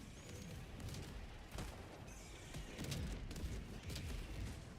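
Continuous heavy rumble of orbital barrage explosions in the Helldivers 2 video game, dense overlapping booms and crackling blasts rolling on without pause at a steady moderate level.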